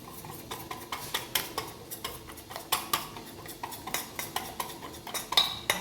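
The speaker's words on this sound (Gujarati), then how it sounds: "પિંચ જેટલી હળદર નાખીશું. મિક્સ કરી દઈશું." Spoon repeatedly scraping and clinking against a steel bowl while a pinch of turmeric is mixed into dhokla batter, a steady run of close, bright metallic taps and scrapes with no voices.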